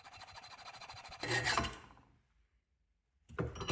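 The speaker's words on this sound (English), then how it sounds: "load this into the vise and cut off the sprue from the top of the cast" A saw cuts the sprue off an aluminum casting clamped in a vise, giving close, rasping back-and-forth strokes that build into a harsh burst, fall silent, then start again briefly.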